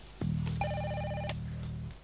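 A telephone rings once, a steady electronic trill lasting nearly two seconds over faint background hum, fairly close and moderately loud.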